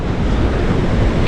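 Sea waves surge against the shore near a river mouth as Typhoon Inday sets in, a brief, loud roar of surf heavily mixed with buffeting wind noise.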